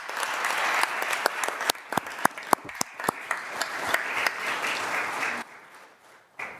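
A county board meeting audience in the stands claps a round of applause, with distinct individual claps standing out in the dense clatter before it thins and fades away near the end.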